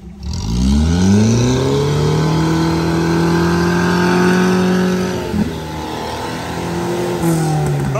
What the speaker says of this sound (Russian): УАЗик пошел первый, начал пробивать маршрут, подсел.